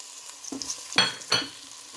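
Onions and peppers frying in olive oil in a pan: a soft sizzle broken by two or three sharp stirring scrapes, close and fairly quiet, with no talking.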